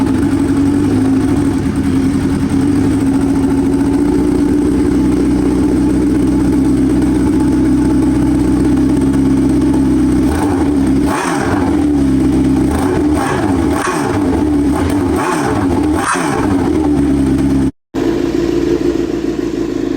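A motorcycle fitted with a Toce exhaust starts after its battery has been charged for about an hour. It settles into a loud, steady idle, then gives a quick run of sharp revs before a brief cutout and a return to idling.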